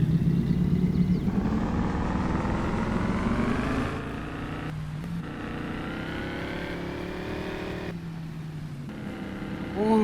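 Game car with a 5.7-liter LT1 V8 and six-speed manual in Farming Simulator 22, revving loudly and climbing through gears with clear shift breaks, engine note rising and dropping, close and steady with no talking.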